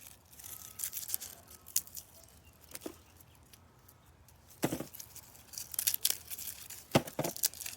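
Dry, papery skins are peeled from a garlic bulb, giving faint crinkles punctuated by sharper tearing rips in scattered bursts close by.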